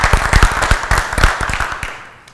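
Applause for a doctor at a round-table event on an afternoon show, a crowd clapping in quick irregular bursts close to the microphone, strong at first and then gradually thinning and fading out.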